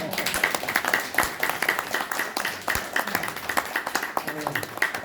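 Audience applause fills a forum hall at a Korean-American Park Chung-hee memorial forum in Orange County: dense, steady clapping from many hands, fairly loud and continuous throughout.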